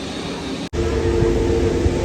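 A Vistara airliner passes near Mumbai airport, a broad, steady roar of jet engines heard from outside after a brief dropout, holding loud and continuous with a faint tonal hum.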